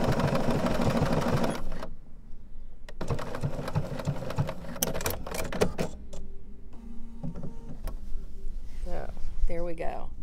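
Sewing machine stitching with tightly spun metallic thread, heard as bursts of mechanical whirring and rattling that start and stop, close and fairly loud, with talk alongside.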